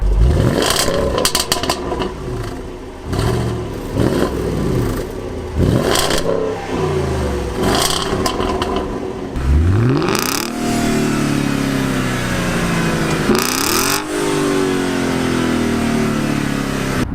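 A Volkswagen car engine revs hard again and again, rising and falling in pitch with rattling, mechanical clatter, loud and continuous throughout.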